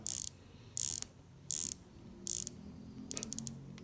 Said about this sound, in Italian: quello che mi gasa è il suono della ghiera al movimento